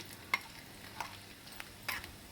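Mustard seeds and cumin crackling in hot oil, with scattered sharp pops and faint sizzling in a quiet kitchen.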